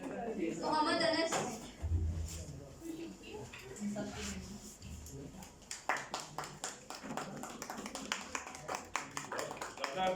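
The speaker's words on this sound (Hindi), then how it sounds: "ज़्यादा तालियां होनी चाहिए।" An audience at an Iqbal Day celebration breaks into scattered, uneven hand claps that grow denser toward the end, with voices talking over and between them.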